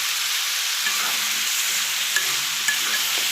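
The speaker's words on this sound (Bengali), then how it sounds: "ভিতরে আমি মুরগির মাংস দিয়ে দিব।" Chicken meat sizzles loudly in hot fried spices in a home kitchen while a utensil stirs it, a steady crackling hiss with a couple of sharp scrape or clink accents and no talk.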